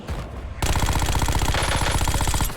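Rapid, steady submachine gun fire in the Warzone video game, a dense continuous burst of evenly spaced shots lasting about two seconds after a brief quieter lead-in.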